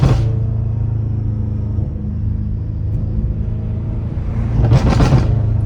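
A catless BMW M5 Competition exhaust rumbles loudly at close range, a deep throbbing drone that swells near the end as the gas is tapped, with brief crackling pops.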